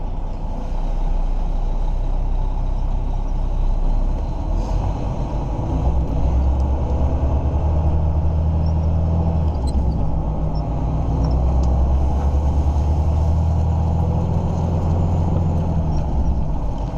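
A truck drives along the road toward Felixstowe, heard from inside as a continuous low engine rumble and road drone with mild swells in pitch, steady and close throughout.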